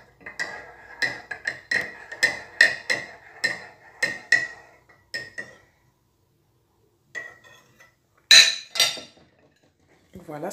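A spoon clinks against a cup while stirring honey into a clove drink, a quick series of close, bright metallic taps with a pause and a final flurry of clinks.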